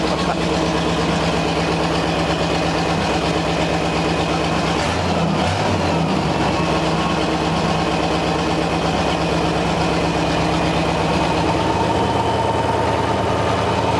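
A supercharged 1963 Studebaker Avanti R2 barn find, long unused, cranks and runs at idle with a loud, continuous low rumble and a brief rough surge partway through, with no talking over it.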